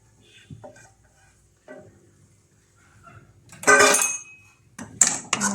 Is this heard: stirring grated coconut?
yes